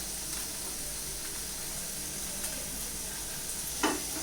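Chopped garlic sautéing in a hot pan, a steady close sizzle and hiss that runs evenly throughout, with a faint clink near the end and no voices.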